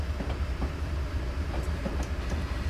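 A GE U30B diesel locomotive hauling a freight train in Train Simulator 2016 on the Feather River Canyon line, with a steady loud engine drone and rumble, faint rail clicks and squeals over it.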